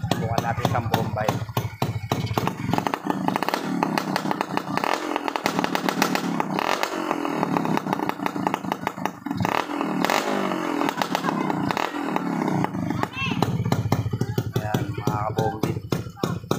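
A 1998 Harley-Davidson-style HD3 motorcycle engine idles while warming up, a steady close, loud pulsing rumble with rapid regular firing beats throughout, and someone speaks over it.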